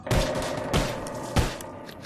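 Three sharp pistol gunshots in Call of Duty VR ring out about half a second apart, loud and echoing, with a booming tail after each shot.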